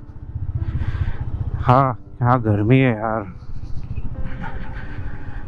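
A Royal Enfield Meteor 350 BS6 motorcycle engine rumbles steadily throughout while someone speaks briefly over it, the ride continuing under his voice.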